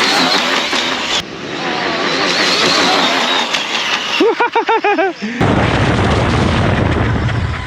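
A ZD Racing EX07 RC car on a full-throttle speed run, its electric motor whining loud and steady for several seconds before rising pitched sweeps cut through and a rough, windy rush takes over at the end.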